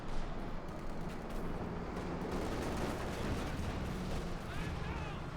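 An MG42 machine gun fires on conscript infantry in the WWII strategy game Company of Heroes 2, in a steady, dense din of rapid gunfire and battle noise that never lets up.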